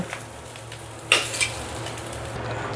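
Eggs frying in oil in a pan give off a soft, steady sizzle with low kitchen hum, broken around the middle by a brief louder clatter of utensil scraping against the pan.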